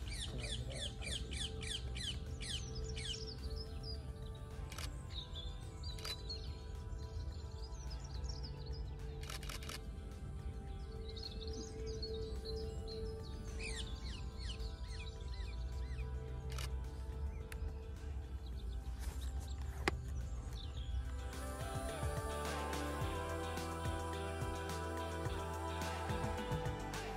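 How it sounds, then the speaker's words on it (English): Wild birds sing outdoors in a wildlife setting, with many chirps and trills layered over a steady background, more birdsong crowding in near the end. "So relax, listen to the birds"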